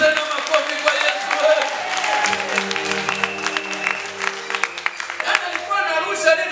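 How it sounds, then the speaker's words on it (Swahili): A Pentecostal church congregation claps for Jesus, a sustained burst of dense, rhythmic hand claps with crowd voices and sung or shouted words mixed in over it. "Ongeza tena makofi kwa Yesu."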